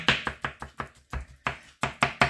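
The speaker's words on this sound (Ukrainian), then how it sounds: "Беремо синій баклажан, синій і просто ось так сечемо." A knife chops eggplant on a board, about a dozen sharp, close taps in a quick, slightly uneven rhythm with no talking.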